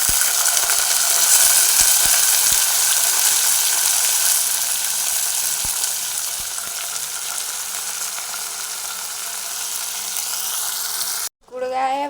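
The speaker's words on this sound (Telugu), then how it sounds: "ముందుగా కడిగి పక్కన పెట్టుకున్న చిక్కుడుకాయ వేసుకుందాం." Fresh broad beans tipped into a pan of frying onions raise a loud, steady sizzle that hisses throughout, easing slightly before a brief cut near the end.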